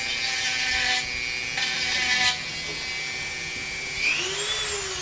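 A small rotary tool grinds and files a peach pit being shaped into jewelry, a close high-pitched motor whine with short rasping bursts of contact and a pitch shift near the end.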